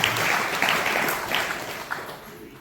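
Audience applause fills a Jain religious discourse hall, a dense wash of many hands clapping together for a couple of seconds, steady and fairly loud with no voices over it.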